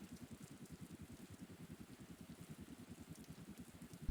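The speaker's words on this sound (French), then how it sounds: "dans la cour du Louvre, sous une pluie battante." Heavy rain pours steadily in the open courtyard of the Louvre in Paris, a dense, even patter of drops hitting the ground, close and continuous with no voices.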